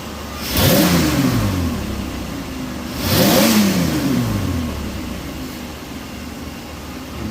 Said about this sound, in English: I'm going to do a rev while it's doing it